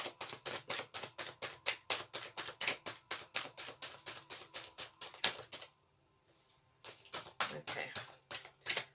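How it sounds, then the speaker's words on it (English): Tarot cards are riffled and shuffled in quick, crisp bursts of rapid snapping, close and fairly quiet, with a short pause before a final few flurries. "One more. This is my last shuffle."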